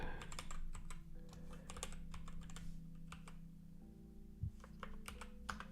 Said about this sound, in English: I just type here just a second